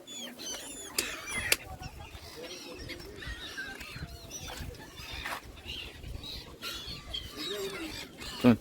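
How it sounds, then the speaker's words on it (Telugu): Birds chirp and call at Somnath, scattered short notes over a quiet outdoor background, with a louder burst near the end. "చాలా అద్భుతంగా ఉన్నాయి ఇక్కడ పక్షులు అయితే."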